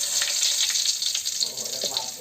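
Curry leaves and dried red chillies frying in hot oil with mustard seeds, giving a steady, close hiss and crackle that runs unbroken throughout.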